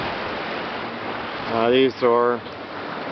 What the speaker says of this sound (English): You can see waves going past right now.